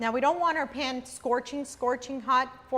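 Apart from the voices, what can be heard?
No distinct noise like a dog, phone or traffic.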